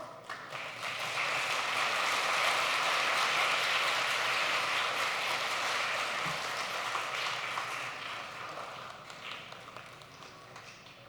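Wedding guests at a church wedding service applaud as the officiating pastor takes the stage, a broad, sustained clapping that swells, holds for several seconds, then gradually tapers off.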